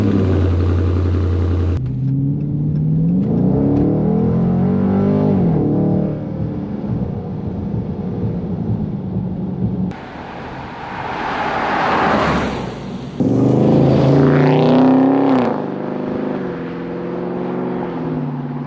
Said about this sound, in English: So the powertrain is unique, and the powertrain is powerful, gives you a unique sound.